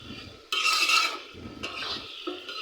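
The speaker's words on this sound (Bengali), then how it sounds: "এখন এই কাজটা একদম ইজি, শুধু নাড়াচাড়া করবেন, অন্য কোনো কাজ নেই।" Broiler chicken being stirred in a pot, a close scraping, rasping stir in two bursts with faint sizzling between, no voices.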